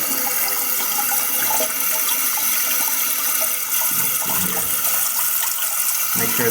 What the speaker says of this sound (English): when it fills up all the way, this little float right here is going to come up, and it's going to turn off the water